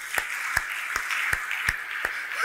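A church congregation claps in praise of the Lord: six evenly spaced sharp claps in a slow steady rhythm over a bright sustained background wash, moderately close.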